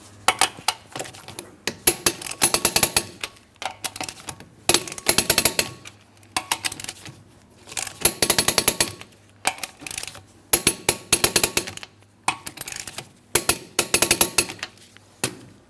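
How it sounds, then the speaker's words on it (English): A torque wrench tightens the wheel lug nuts of a 2003-2007 Cadillac CTS to 100 foot-pounds, in repeated bursts of quick metallic ratcheting and clicking. Short pauses separate the bursts, and no voices are heard. "Let's go ahead and torque these lug nuts to that 100 foot-pounds."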